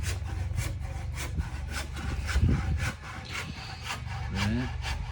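A hand saw cuts through a wooden tenon for a barbecue pavilion build, making regular back-and-forth rasping strokes close by, loud and steady, with a brief pause midway.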